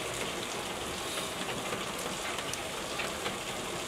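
Heavy rain pours steadily at a small shop, a dense, constant hiss of falling water with no breaks and no voices.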